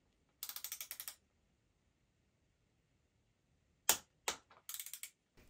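Torque wrench with a 5 mm hex bit socket tightening the damper bolts on a RockShox suspension fork, heard as a fast burst of crisp ratcheting clicks, then after a pause a few sharp isolated clicks and another short ratchet run, close and clear.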